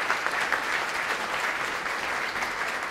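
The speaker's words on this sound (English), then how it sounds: "Can we have another round of applause for Kezia?" An audience gives a round of applause for a speaker at an economic update event, steady sustained clapping from a crowd, fairly close and even throughout.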